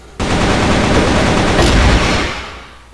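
Gunfire in a shooter video game, a loud, dense burst of rapid automatic shots starting abruptly and lasting about two seconds before fading out.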